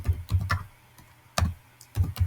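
Keys tapped on a computer keyboard while a Python import line is typed, a few clustered bursts of close, crisp clicks with short pauses between them.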